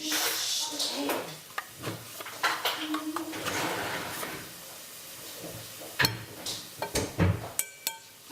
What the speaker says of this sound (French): Nous allons mettre le yaourt dans le saladier à l'aide de notre cuillère à soupe.